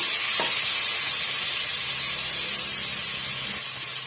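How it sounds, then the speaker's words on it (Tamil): Tomatoes for a brinjal gravy sauté in a hot pan with a steady, loud, close sizzle that hisses on evenly throughout, broken only by a faint stir or two. "சேர்த்துட்டு இதையுமே வந்து ஒரு ரெண்டு நிமிஷம் வதக்கி விட்டுக்கினாலே போதுங்க"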